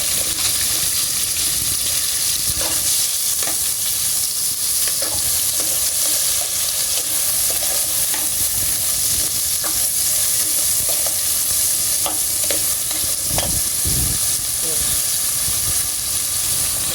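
Ginger and garlic sauté in hot oil in a pan, a loud, steady sizzle with hissing steam throughout and occasional scraping stirs.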